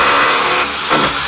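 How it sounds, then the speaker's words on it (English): A $99 Harbor Freight power chisel hammering into a crack in bathroom tile during a remodel, giving a loud, steady buzzing rattle that dips briefly and surges again, close up with no talk. "What I do is I just like put the chisel right up in a crack"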